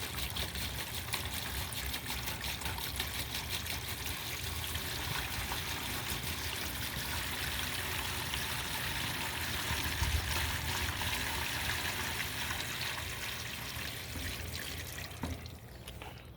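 Water runs steadily through outdoor pipes and connectors, a continuous trickling, splashing flow that is fairly close and holds even for the whole stretch, with no talking over it.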